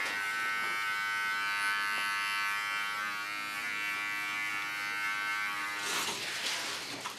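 A small electric hair clipper trims a short haircut, giving a continuous close buzzing hum that holds steady for several seconds before a brief rustle near the end, with no talking.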